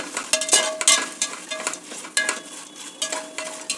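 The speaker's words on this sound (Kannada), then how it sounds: "ಈಗ ಎಲ್ಲನೂ ಚೆನ್ನಾಗಿ ಮಿಕ್ಸ್ ಮಾಡ್ತಾಯಿದ್ದೀನಿ" A spiced paper-poha snack mix with sugar and crisp-fried curry leaves is stirred in a pan. Repeated scraping strokes of a spoon against metal come in uneven bursts over a light background sizzle.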